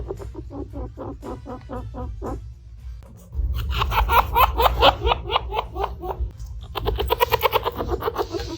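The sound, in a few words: chinchilla fast chirping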